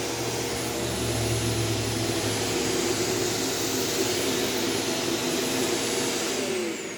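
A Shark Apex vacuum cleaner runs on thick carpet, a loud, steady motor roar with a high whine that holds for about seven seconds before tapering slightly at the end.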